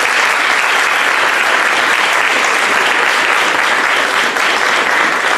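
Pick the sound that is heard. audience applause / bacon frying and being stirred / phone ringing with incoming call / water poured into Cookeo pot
audience applause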